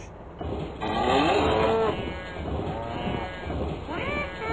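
Cattle in a farming simulation video game moo and low in overlapping calls over a busy background, moderately loud and continuous.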